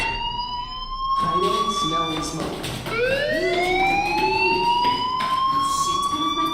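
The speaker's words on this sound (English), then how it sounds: "do you hear that fire alarm?" A rising, wailing electronic fire alarm tone in the video game Life Is Strange, with bright harmonics, sweeps upward and holds, sounding steady and loud over a busy background.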